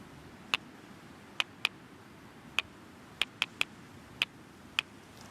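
Two rocks knocked together to imitate a stonechat's alarm call: nine sharp, clicking stone-on-stone taps at irregular intervals, some paired close together, over a quiet outdoor background.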